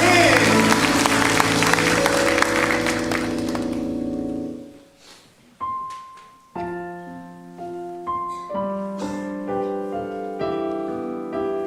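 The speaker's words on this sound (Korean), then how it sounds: "우리 좋으신 하나님께 영광의 박수 올려드리겠습니다" A congregation claps loudly and steadily during a Korean Sunday morning church service. The applause dies away after about four seconds and gives way to gentle keyboard music with sustained chords.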